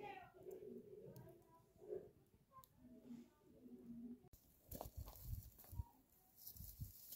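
A bird sings outdoors in a highland village, with repeated tonal cooing phrases through the first few seconds, followed by heavier knocking and handling noises close by.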